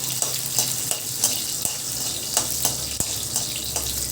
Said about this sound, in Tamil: பூண்டு சேர்த்துட்டு லைட்டாக வதக்கி வச்சுக்கலாம்.